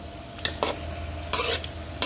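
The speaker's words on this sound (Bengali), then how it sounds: "তো মূলার সাথে মশলাগুলো সুন্দর করে কষিয়ে নিব" Radish and spices stir-fried in a pot for a climbing fish curry, with a few sharp spoon scrapes against the pot over a low, steady sizzle.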